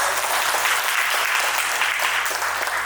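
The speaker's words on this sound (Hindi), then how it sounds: "मैं तालियां चाहूंगा इसके लिए" Clapping fills a hall at a birth anniversary celebration event, a dense continuous round of applause from a large audience, loud and steady throughout with no voices over it.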